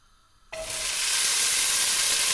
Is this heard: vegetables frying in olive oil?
yes